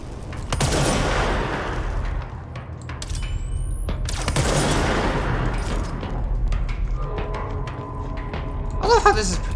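Heavy shots from a sniper-like weapon in the video game Control: two loud, sharp blasts about four seconds apart, each with a long rumbling tail, and lighter clicks and game effects between them.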